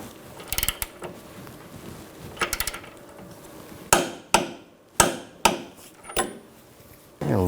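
Torque wrench tightening a bolt on the front CV axle of a 2000-2006 BMW X5 gives a few sharp metallic clicks and knocks, near and fairly loud, in irregular bursts with short pauses between.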